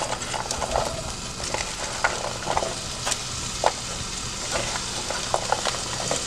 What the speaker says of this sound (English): I'm going to go ahead and add the onions